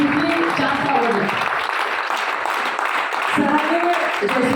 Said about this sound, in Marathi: तुमच्या टाळ्याच्या प्रकारे किंवा ट्रिप किती जास्त आवडली